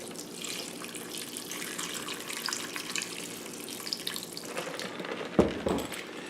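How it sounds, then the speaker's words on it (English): Ice-cold water pours steadily into a bowl of freshly churned butter, a continuous splashing trickle, then a short heavier gush near the end. "you take ice cold water and you pour it in there."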